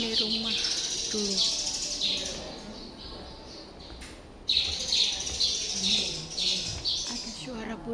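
Birds chirp and tweet in Nan Lian Garden, Hong Kong, in repeated bright, close calls over a steady outdoor hum, with people talking faintly in the background.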